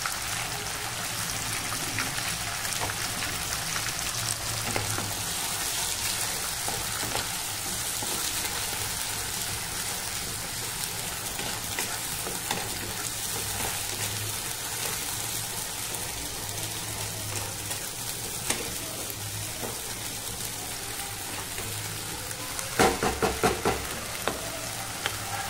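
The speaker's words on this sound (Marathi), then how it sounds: "मसाल्याला तेल सुटेपर्यंत चांगला भाजून घ्यायचा।" Ground spice masala for chole roasts in oil in a pan, giving a continuous hissing sizzle with occasional stirring scrapes and a brief cluster of louder clatter near the end.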